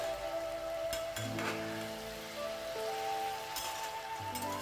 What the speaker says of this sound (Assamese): এইখিনি মই পুনৰ ভালদৰে লৰাই লৰাই ভাজি থাকিলোঁ